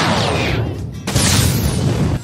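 A loud cartoon explosion in a Doraemon story: a broad, booming blast with a rumbling tail, a brief dip, then a second surge of crackling noise, with no voices.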